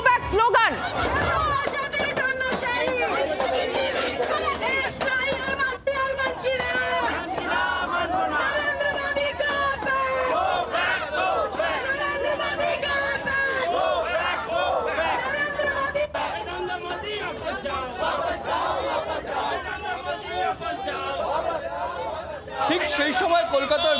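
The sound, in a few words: protest crowd chanting 'Modi go back' slogan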